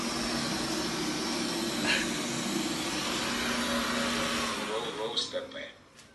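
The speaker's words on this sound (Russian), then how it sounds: "Это пылесос." A vacuum cleaner runs with a steady, fairly quiet whine and airflow hiss, then the motor sound winds down and breaks up near the end.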